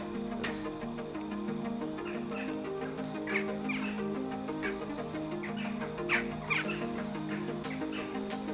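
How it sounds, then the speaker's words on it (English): Chickens clucking and chirping over a steady low hum, with scattered short calls throughout. "Frickin' birds!"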